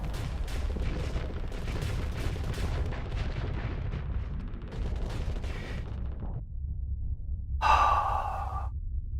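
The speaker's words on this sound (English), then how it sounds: "Gauss cannon snipe." Gauss cannon and other ship weapons firing in the space combat game Starsector, a rapid series of sharp percussive blasts with heavy low rumble, then a short pause before a final bright, ringing discharge.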